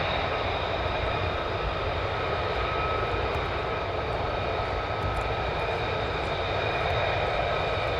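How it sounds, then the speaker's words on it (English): F-15 fighter jets starting up their engines at RAF Lakenheath, a steady broadband roar with a constant high whine holding throughout, distant and even in level with no voices. "We also have some F-15s that are beginning to start up as well."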